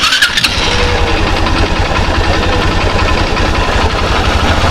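A Honda Fan 125 motorcycle with a noisy engine starts up with a quick crank and settles into a loud, steady, close idle.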